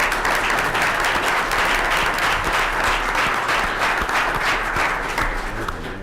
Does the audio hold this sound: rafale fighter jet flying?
no